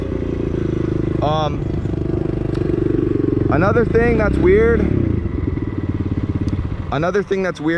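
A Kawasaki KLX 110L dirt bike engine in second gear drones steadily up close, with a buzzy mechanical rumble and slight rises in revs while a rider talks over it.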